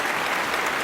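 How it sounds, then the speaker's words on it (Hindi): A theatre audience breaks into thunderous applause, a dense, steady wash of clapping filling the space without pause. "मुझे तालियों की गड़गड़ाहट सुनाई दी।"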